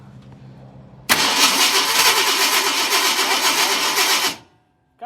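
A 1971 Ford F250 truck engine fires up after fuel is poured down the carburetor, catching abruptly and running loud and rough for about three seconds before cutting out into silence.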